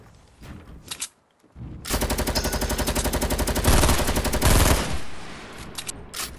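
Sustained light machine gun fire in a video game, a rapid unbroken burst of shots lasting about three seconds, loud and close, with a brief quieter shot or two before and scattered game sounds after.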